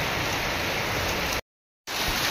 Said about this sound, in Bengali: দেখতেই পাচ্ছ পুরো ফুল বৃষ্টি হচ্ছে